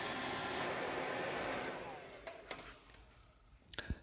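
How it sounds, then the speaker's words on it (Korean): A hair dryer blows steadily close by, heating peeling sheet film to melt its glue, then cuts off, leaving a few faint clicks and taps. "이것도 드라이기로 가분히 가열을 시키고 본드를 녹인 다음에"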